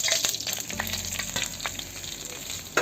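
Vermicelli crackles and sizzles in hot ghee in a pan, a close, steady frying hiss with a few light stirring taps over a short stretch and no speech.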